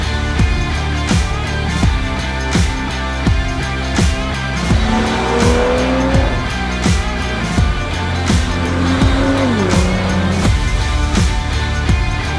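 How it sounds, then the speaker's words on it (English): A 2022 Toyota A90 Supra lowered on MSS coilovers out on a test drive, its engine droning steadily with rising and falling revs and a rhythmic thumping over a continuous loud road roar, with no voices. "on a test drive here in the Supra"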